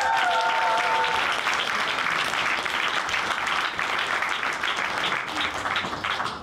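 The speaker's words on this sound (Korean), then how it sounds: "여러분 마지막으로 큰 박수 부탁드립니다" A concert audience at a violin recital breaks into sustained, loud applause, a thick crowd of clapping hands holding steady throughout, with a brief voice audible at the start.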